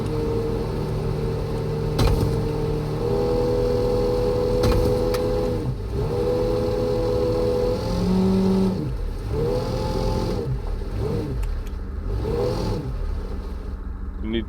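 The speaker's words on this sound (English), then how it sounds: "I'm going to try and increase my RPMs a little bit here and see if we can't get up this hill" An off-road vehicle engine revs in a simulator game as it climbs a hill, a steady mid-pitched drone rising and falling through several throttle surges, with occasional sharp clicks.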